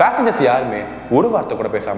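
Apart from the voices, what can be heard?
None of the usual background noises is heard.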